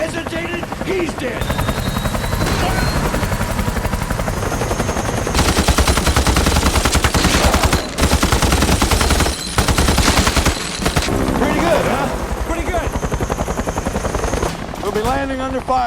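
A military helicopter's rotor thumps loudly alongside bursts of machine-gun fire in a Vietnam War battle scene, continuous and close, with shouting voices breaking through the din.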